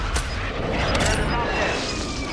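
Artillery strike hitting in a battle royale game: a sharp blast up front gives way to a dense, rumbling roll of explosions and debris that stays loud and steady to the end.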